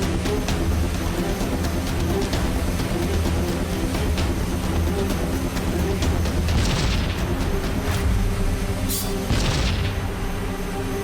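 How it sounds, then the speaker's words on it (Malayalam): Cartoon explosions blasting across mountains, a dense rumbling barrage of booms and bursts under a continuous loud soundtrack, with a few sharper blasts standing out near the end. "അവിടെ ഇവിടെ എല്ലാം ബ്ലാസ്റ്റ് ആവുന്നുണ്ടല്ലോ."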